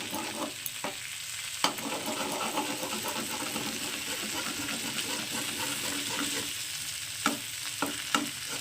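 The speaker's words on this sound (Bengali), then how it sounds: "ডিমটাকে আমি ভেঙে দিয়ে দিয়েছি এবার এটাকে আমি খুন্তিতে মাথাটা কোনাটা দিয়ে একটু ঘেটে দেবো" An egg broken into a hot pan is stirred and broken up with the tip of a spatula, giving a steady sizzle of frying with scraping strokes and a few sharp clinks of metal on the pan.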